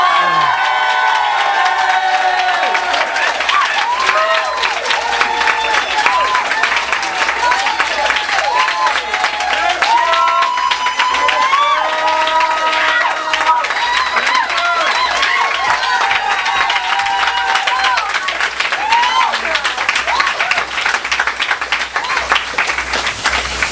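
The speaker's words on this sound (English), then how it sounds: "Everyone was applauding for you" An audience applauding and cheering continuously, a dense roar of clapping with whoops and shouts, coming through the muffled, narrow sound of a phone call.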